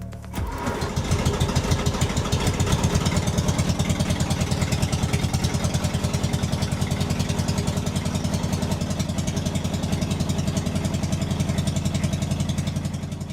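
A small Zaporozhets car engine runs steadily with a rapid, rattling putter, close and loud throughout, with no voices.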